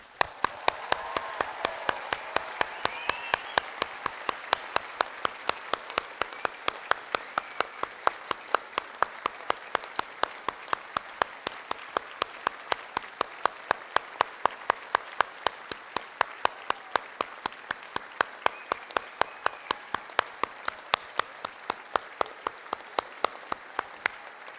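Sustained applause from a large audience at a university graduation ceremony in a hall, steady dense clapping for over twenty seconds with occasional louder nearby claps.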